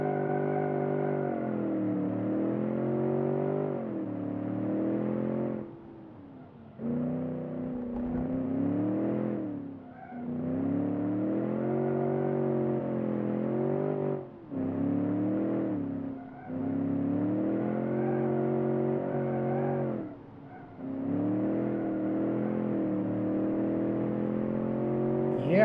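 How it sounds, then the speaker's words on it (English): A car doing burnouts in second gear, the engine held at high revs in long sustained droning pulls that rise and dip, broken by brief lifts off the throttle, loud and close. "You can do burnouts in second gear."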